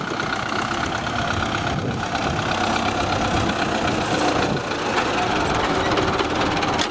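A vehicle engine idles steadily and rumbles loudly nearby, with a continuous knocking, jackhammer-like chatter that holds without pause as it moves off, beside a camp pond.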